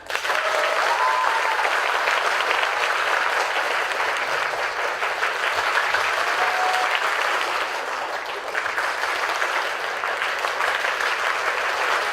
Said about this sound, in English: Show me with your clapping how good a morning did you have?